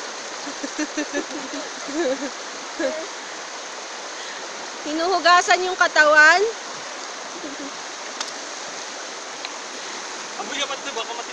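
Cool, clear water from the mountains rushes steadily in a river in Kalinga, making a constant soft hiss throughout while people talk briefly over it in a few short bursts.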